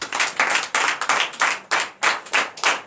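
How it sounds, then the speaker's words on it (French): A church congregation claps in a steady, even rhythm, about three claps per second, loud and close, with no voices. "je vous demande d'applaudir très fort."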